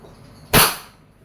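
A single sharp shot from a Wingun 708 airsoft revolver fired in single-action mode, one loud close crack that decays quickly into quiet.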